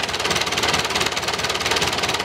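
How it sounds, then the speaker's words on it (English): A David Brown 990 tractor engine idles close by with a steady, even rumble and a fast knocking pulse that holds unchanged throughout. "So now the engine is running"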